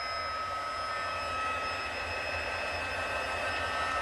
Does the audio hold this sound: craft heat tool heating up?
yes